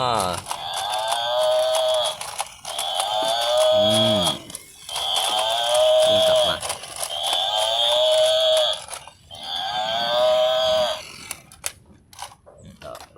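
A brown buffalo toy moos in repeated drawn-out calls, five in a row with short gaps, over clicking mechanical sounds and a voice in the background.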